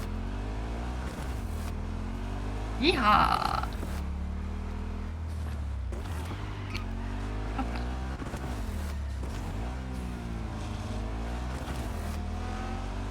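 A motorcycle engine in the video game Cyberpunk 2077 drones steadily throughout, its pitch swooping up and down as it revs and shifts, with a brief louder burst of noise early on and a short exclamation from a player.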